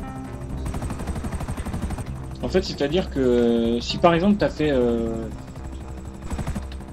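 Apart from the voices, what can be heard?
helicopter flying in GTA Online, video game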